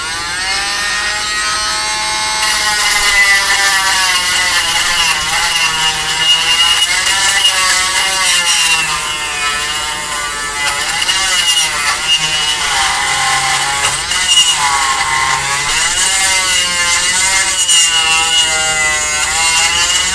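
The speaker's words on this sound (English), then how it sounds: "I have my other Dremel bit. This will work. This is going to make quick work of that hole." A Dremel rotary tool with a cutting bit grinds out a hole in a plastic 1/35 Tamiya Tiger I tank model, a loud, steady high-pitched whine with wavering pitch running continuously for the whole span.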